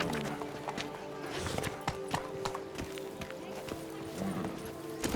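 Roach, a horse in The Witcher 3, gallops with a steady, rhythmic clip-clop of hooves, close and fairly loud over a busy game soundscape, while a voice speaks briefly.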